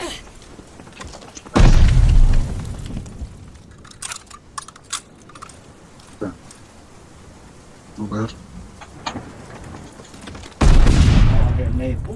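A loud grenade blast from Call of Duty: Vanguard gameplay, a heavy booming burst with roaring decay, followed later by a second explosion, with scattered gunfire and game noise and a player talking over the action.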